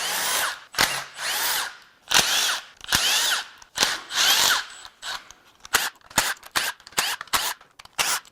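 Power tool zipping bolts off a Honda CR-V 1.5L engine during a teardown, in repeated loud bursts of varying length, some long whirring runs and then a quick series of short rattling zips near the end.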